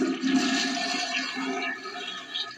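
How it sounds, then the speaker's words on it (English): A toilet flushes as a sound effect in a horror story, a rushing swirl of water that starts strongly and gradually drains away, heard alone without talk. "I heard a toilet flush."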